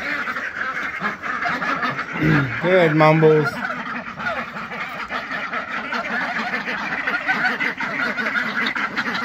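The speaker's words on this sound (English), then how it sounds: "You got it, ducks." Ducks quacking in a fenced barnyard pen, a short burst of loud calls midway over steady farm background noise, with someone talking nearby.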